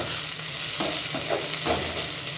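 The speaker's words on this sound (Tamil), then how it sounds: "ஸோ முருங்கையில் சேர்த்துக்கினு கொஞ்சம் நல்லா வதங்கிடணும்" Drumstick leaves sizzle and fry steadily in a hot pan, with a few soft scraping stirs breaking through the hiss.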